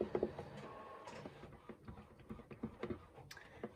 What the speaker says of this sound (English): don't mind that printer. I'm printing out some things